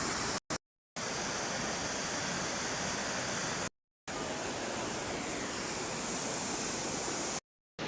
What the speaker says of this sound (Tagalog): napakalakas ng tubig dito